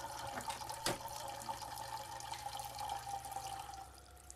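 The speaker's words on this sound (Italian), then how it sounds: "Consumiamo un po' di acqua, tiriamo lo sciacquone." A toilet flushes in the horror game Layers of Fear remake, on a transatlantic liner level: a steady rush of running water with one sharp knock near the start, tapering off at the end.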